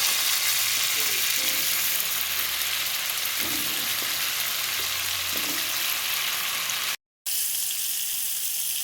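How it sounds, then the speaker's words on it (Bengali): Pointed gourd (potol) slices frying in oil in a pan, a steady close sizzle that runs without a break, with occasional stirring scrapes and no talk. "প্রথমে পটল ভেজে নেবো"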